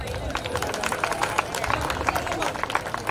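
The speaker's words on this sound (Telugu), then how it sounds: "చప్పట్ల ద్వారా ఆమోదించాలి." A crowd at a Kapunadu golden jubilee gathering claps steadily to approve a resolution, a dense, continuous patter of many hands with a murmur of voices underneath.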